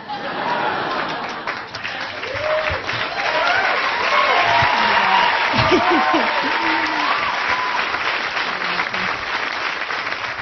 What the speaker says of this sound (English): Everybody's cheering